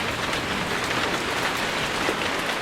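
Heavy rain pouring down at a Hong Kong cable car construction site during the rainy season, a dense, loud, steady hiss of rain hitting surfaces with no pauses.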